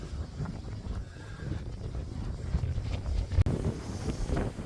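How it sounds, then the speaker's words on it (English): Strong relentless wind gusts outdoors beside a tree, buffeting the microphone with a loud, continuous low rumble that surges and eases, with no voices. "this wind has been absolutely relentless"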